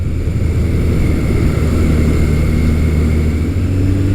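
A Kawasaki KZ1000 classic motorcycle cruises at about 60 mph near 3,700 RPM, its engine a loud, steady droning hum with a constant pitch and no gaps.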